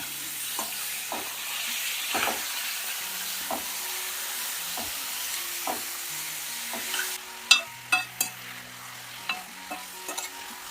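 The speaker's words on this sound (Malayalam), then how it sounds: "ഈ എണ്ണ കിടന്ന് തന്നെ ഇത് നല്ലതുപോലെ ഒന്ന് വെന്ത് വരട്ടെ ഇത് ഇടയ്ക്കിടയ്ക്കൊന്ന് ഇളക്കി കൊടുത്താൽ മതി" Turmeric-coated chicken frying in oil without water for chicken chinthamani, with a steady close sizzle and repeated clacks and scrapes of a spoon stirring the pan, louder toward the end and with no speech.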